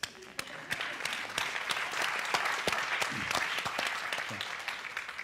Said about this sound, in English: I think the pensioners deserve a round of applause.